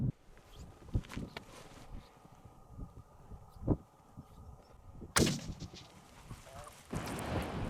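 A single sharp rifle shot cracks out during an Inuit seal hunt on the Arctic sea ice with sled dogs nearby. It bursts loud and close after several seconds of muffled outdoor rumble and scattered thuds.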